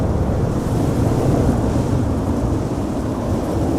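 A big jet engine spooling up on runway 09 at Amsterdam Schiphol Airport, heard as a continuous low, heavy roar with wind buffeting the microphone, loud and steady throughout.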